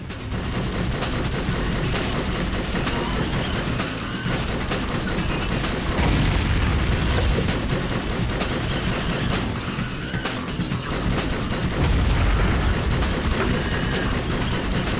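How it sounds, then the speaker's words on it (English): Explosions and vehicle combat in the video game Twisted Metal Small Brawl, dense booming blasts and engine roar layered continuously with periodic heavier bursts throughout. "It didn't look like he took any damage from that explosion."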